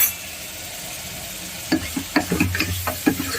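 Masala frying with turmeric and chili powder, a steady sizzle joined halfway through by a run of close, rhythmic scraping stirs from a spatula in the pan, with no talking.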